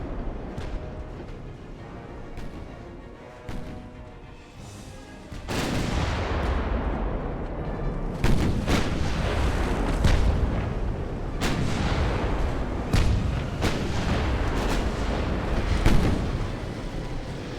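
Warship naval guns firing on a heavy cruiser in Ultimate Admiral: Dreadnoughts, repeated deep booming salvos over a low rumbling background, growing louder and denser midway with sharp blasts roughly every second or two.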